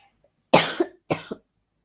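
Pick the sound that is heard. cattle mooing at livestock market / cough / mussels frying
cough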